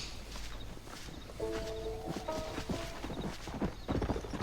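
Horse hooves clip-clop in the Red Dead Redemption video game, a steady walking rhythm joined midway by a clear, tonal whinny, all close and moderately loud over a rustling outdoor background.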